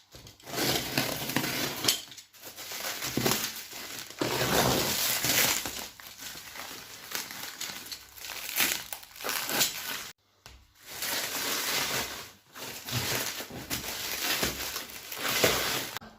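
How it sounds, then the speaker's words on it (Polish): A large, heavy cardboard parcel of about 6 kg is opened, with near continuous crinkling, rustling and tearing of packaging at close range, broken by a couple of brief pauses. "Otwieramy pakę"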